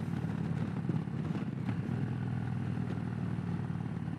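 A Harley-Davidson Low Rider ST motorcycle downshifts while riding, its engine drone steady and loud, with a brief clunking shift near the middle and no talk.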